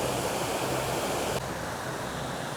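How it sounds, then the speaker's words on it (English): A waterfall at Alva Glen roars as a continuous broadband rush of falling water, loud and close, steady throughout with a slight drop partway through, with no voices. "Waterfalls look a lot less dramatic when you're looking down them."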